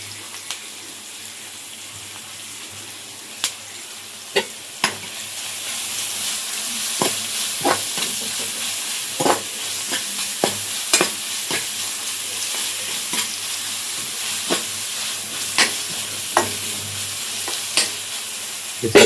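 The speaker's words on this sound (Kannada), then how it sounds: "ಸ್ವಲ್ಪ ಈರುಳ್ಳಿ ಬೆಂದಿದೆ ಅಂತ ಗೊತ್ತಾಗಿದ ತಕ್ಷಣ ಶುಂಠಿ ಬೆಳ್ಳುಳ್ಳಿ ಪೇಸ್ಟ್ ಹಾಕೋಬಿಡಿ." Onions fry in oil with ginger garlic paste for a moringa leaf stir-fry, a loud continuous sizzle close by, punctuated by regular sharp clicks of a spoon stirring against the pan, no voices.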